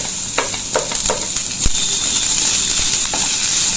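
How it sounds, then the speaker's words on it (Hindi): Onion, green chilli and ginger frying in a pan for veg spring rolls, a steady close hiss and sizzle with a few spatula taps and scrapes, and no talk. "और अब हम डालेंगे प्याज। इसको भी हमें हल्का हल्का भूनना है।"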